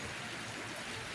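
Fairly heavy rain falling outdoors, a steady faint wash of broadband hiss with no distinct drops or voices.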